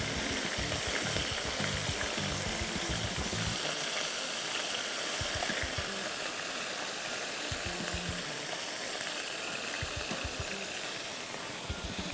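Chicken frying in a pan for chicken tagine, a loud unbroken sizzle and hiss peppered with rapid crackling splatters of hot oil, sustained and close without any voices.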